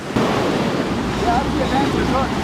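Ocean waves wash up onto a Dominican Republic beach, a loud, close, continuous surge and hiss with gusts of wind buffeting the microphone.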